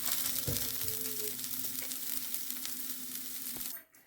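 Chicken shami kebabs fry in a pan with a steady, soft sizzle and crackle, close and continuous, with a few small clinks and stirs before it cuts off.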